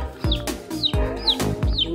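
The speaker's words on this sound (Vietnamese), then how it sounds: "Wow, hai chú gà con rất là xinh ở đây nha." Baby chicks being fed bran give thin, falling peeps, repeated several times over soft pecking thumps and low handling noise nearby.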